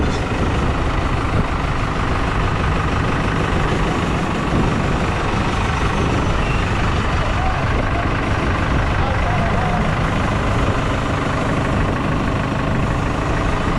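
A tractor engine runs steadily through the whole stretch at a construction site where a barn is being rebuilt after an earthquake, a loud continuous low rumble and idle throb that stays close and level throughout.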